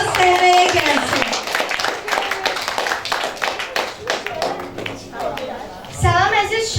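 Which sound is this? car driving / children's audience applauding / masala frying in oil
children's audience applauding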